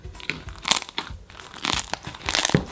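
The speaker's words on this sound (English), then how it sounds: "There is lots of crunches in this, so that's good." Crunchy iceberg slime squished by hand gives a close series of crisp, crackling crunches in irregular bursts, with brief pauses between squeezes.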